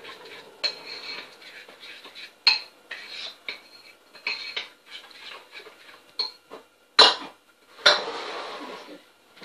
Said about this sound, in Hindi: इसको मिक्स कर लूंगी अच्छे तरह से। इस तरह रनी सा बेस होना चाहिए।